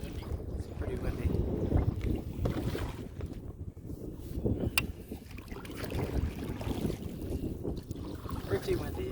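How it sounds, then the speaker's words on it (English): Steady wind noise buffets the microphone throughout, a low rumbling roar with gusts, over water and kayak sounds. "Yeah, it's pretty windy."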